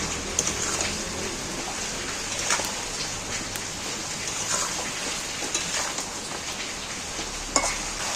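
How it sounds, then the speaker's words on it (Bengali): Chicken pieces salted and sautéed in a pan sizzle steadily with a dense, crackling hiss and occasional sharper pops, close and continuous with no talking. "এবার মাংসটা স্বাদ মতো নুন দিয়ে দিচ্ছি এবার কষতে থাকবে"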